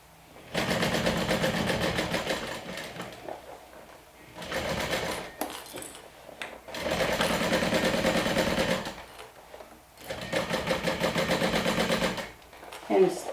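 A sewing machine stitches through layers of vinyl on a crossbody bag, running in four close, loud bursts of rapid stitching separated by short pauses.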